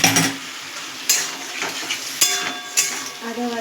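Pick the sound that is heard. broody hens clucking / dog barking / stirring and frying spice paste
stirring and frying spice paste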